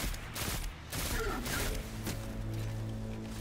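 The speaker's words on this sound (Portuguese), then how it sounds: "Essa arma, ela tira... Ela dá dois tiros e para." Bursts of Destiny 2 gunfire from a two-shot burst weapon crackle over a layered, noisy soundscape, with a steady low hum beneath and a few brief sharp impacts.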